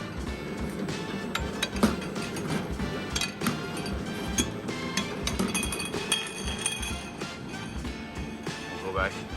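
Glass bottles clink and knock together as they are loaded onto a ViMeg Vi500 4-1S automatic bottling line, a busy irregular run of sharp close clinks over a mechanical background.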